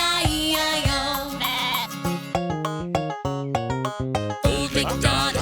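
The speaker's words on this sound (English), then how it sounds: "And on this farm he had a sheep" Sheep bleats set within an upbeat children's farm song, several bleating 'baa' calls rising over bouncy instrumental music and sung backing, loud and close.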